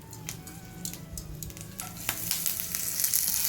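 Unpeeled garlic cloves fry in a very hot kadai, a crackling sizzle that swells louder and hissier as it goes on, with no voices.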